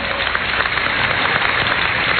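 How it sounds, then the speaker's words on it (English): A studio audience claps steadily at a live stage show, a dense, even wash of applause lasting the whole stretch without a break. "And people are clapping."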